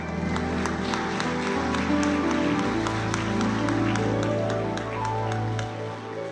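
Applause from an audience, a steady wash of clapping over sustained music with a low bass hum throughout.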